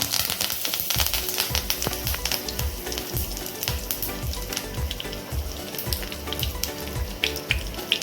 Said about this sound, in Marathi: आता आपलं छानपैकी तेल गरम झालेलं आहे आता थोडी मोहरी हिंग कढीपत्ता